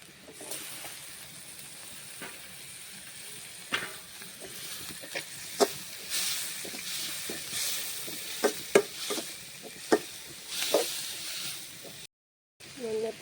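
Tomatoes hit a hot pan of curry, bringing soft sizzling and frying hiss with scattered stirring clicks and scrapes from a utensil, quiet and close, followed by a brief silent gap near the end.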